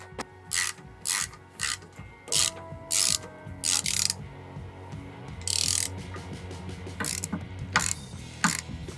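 A ratchet wrench works loose the exhaust header on a 1966 Dodge Dart, giving about a dozen close, loud bursts of rapid clicking, each stroke separated by short pauses, with no one talking.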